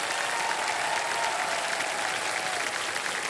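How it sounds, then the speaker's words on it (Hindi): Studio audience on the KBC quiz show applauding a contestant, a dense, even roar of clapping hands that holds at a steady level from start to finish. "तालियां बजती रहें देवेश संजय के लिए"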